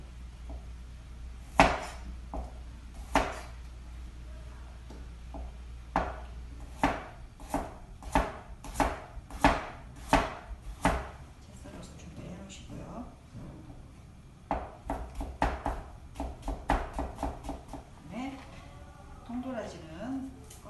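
A knife julienning carrot on a cutting board while preparing japchae for a Korean cooking exam, with quick, rhythmic chopping taps in close bursts and someone speaking between and over the cuts.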